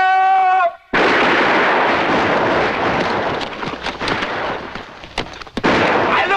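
A cannon and musket volley in a Disney film battle: a tone cuts off into a massive, close blast followed by a long, rumbling roar, with scattered sharp reports popping through as the booming fades.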